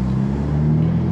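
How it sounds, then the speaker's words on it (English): Audi S4 engine working through a shift from first to second gear, a brief, loud, close drone with a low steady rumble whose pitch slides slightly, heard alone without talk. "First gear. Shift to second."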